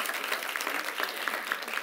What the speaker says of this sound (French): Applaudissements pour Kalim